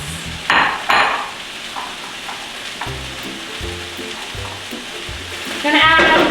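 Beets sizzle in oil in a skillet for borscht, a steady crackling fry with clinks of a utensil against the pan, with a louder burst of sizzle near the end.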